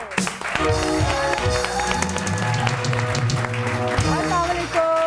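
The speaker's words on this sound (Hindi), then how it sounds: "ज़ोरदार तालियों में हम वेलकम करेंगे" Studio audience applause welcoming a guest on a Pakistani morning television show, loud clapping blended with a bold musical sting playing over it.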